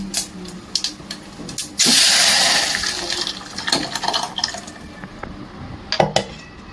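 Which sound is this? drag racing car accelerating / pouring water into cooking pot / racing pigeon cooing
pouring water into cooking pot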